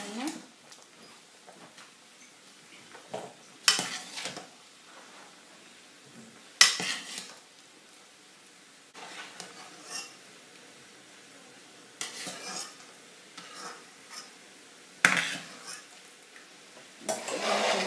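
Cooked potatoes and carrots are lifted out of a pot for a potato curry, with a few sharp clinks of utensil against cookware spaced apart under a quiet background and speech.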